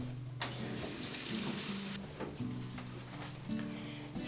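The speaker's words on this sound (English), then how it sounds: "Let me just go wash my hands." Water runs from a sink tap while hands are washed, a steady broadband rush with a constant low hum underneath, close and continuous throughout.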